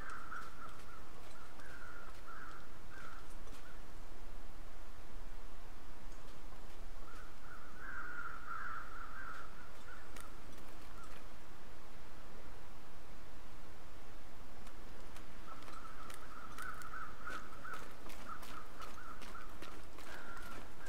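Crows cawing in the survival game The Long Dark, several bursts of harsh caws at a distance, spaced apart over a constant windy hiss.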